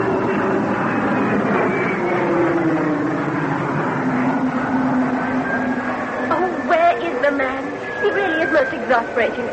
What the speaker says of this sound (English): that's the plane for Tanzania standing on the tarmac now